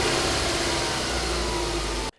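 Recorded car engine playing back as a sound file, a steady rumbling run that holds at an even level for about two seconds and then cuts off abruptly.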